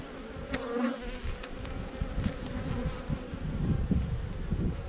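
Honey bees buzz in a dense, steady drone during a June hive inspection, close and continuous, with a low rumbling hum and no voices.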